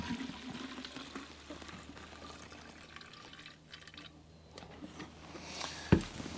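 Fuel being drained from a trash-picked Mountfield strimmer, a soft continuous trickle and pour of liquid with faint drips and handling clatter, ending in a brief louder knock.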